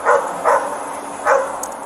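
A three-month-old puppy barks inside a parked car, three short, fairly loud yaps spaced unevenly over a steady background hum, with no talking.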